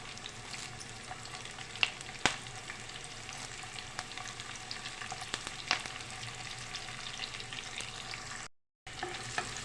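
Onion pieces and curry leaves fry steadily in hot oil, giving a continuous soft crackling sizzle with a few sharp pops and brief clicks, fairly quiet and with no voices.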